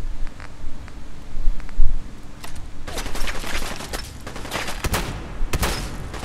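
Gunfire in the Fallout 4 video game, loud bursts of repeated shots and impacts, dense and rapid toward the end, over a rumbling game background.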